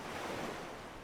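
Ocean waves in the Bannerlord video game, a steady broadband wash of surf with wind, continuous and fairly loud, no voices.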